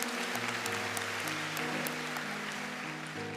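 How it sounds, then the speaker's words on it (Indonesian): Audience applause for the university rector at an Indonesian lecture event, a steady wash of clapping over sustained music or crowd tones, continuous for the whole stretch. "Tepuk tangan untuk rektor kita."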